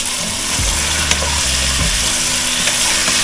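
Pork sizzles and fries in a pot with garlic and tomato, a steady close hiss running throughout with a few brief stirring bumps.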